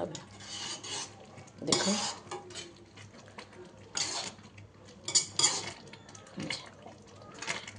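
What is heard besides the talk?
stirring mango pickle in a pan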